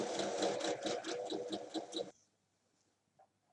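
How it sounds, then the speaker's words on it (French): A sewing machine stitching along a drawn line on a tote bag, a steady rapid whirring rhythm for about two seconds that stops abruptly, followed by near silence and a faint click. "Il faut maintenant venir piquer sur la ligne."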